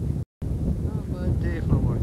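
Strong wind buffets the microphone in a steady low rumble outdoors where a boat is being painted, with faint distant voices and a brief dropout near the start.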